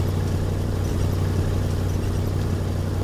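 A Chevrolet truck engine runs in the video game Kona, a continuous low rumbling drone, steady and fairly loud with no pauses.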